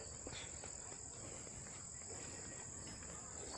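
Crickets chirp steadily in a continuous high-pitched trill, constant and unbroken throughout, with faint background ambience underneath, on a rural farm in Mendez, Cavite, Philippines.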